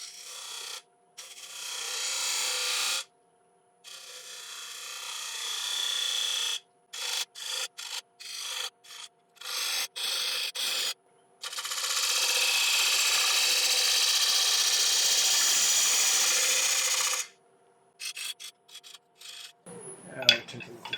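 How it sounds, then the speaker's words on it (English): A 3/8-inch spindle gouge shapes a bead on split oak spinning on a lathe, giving a steady rasping, scraping hiss in long and short bursts broken by pauses, close and loud with no talk. "switch over to 3 8-inch spindle gouge. And I'll just use this to form my bead."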